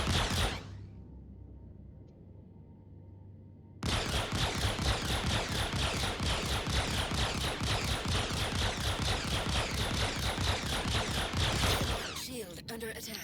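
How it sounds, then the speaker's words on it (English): Repeater weapons on a spaceship in Star Citizen fire a long, rapid, even stream of shots, loud and continuous for several seconds after a quieter hum with a brief sharp start. "now let's test the repeaters"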